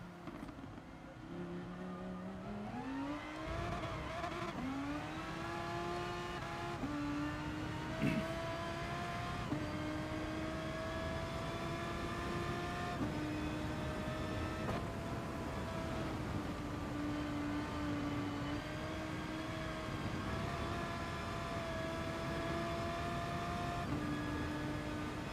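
A race car in Gran Turismo Sport on the wet Spa circuit, its engine whining and climbing through gears with brief dips at each shift, a steady close drone with no voices.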